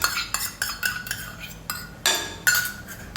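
A spoon stirs yogurt into garlic chutney in a pan, giving a run of close metallic scrapes and clinks in irregular bursts, with no talking.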